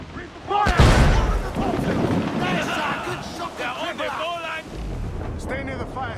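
Ship cannon fire in the pirate game Assassin's Creed 4 Black Flag during a naval battle, a heavy boom near the start followed by rumbling volleys over sea and wind ambience, with shouted voices mixed in.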